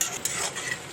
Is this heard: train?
no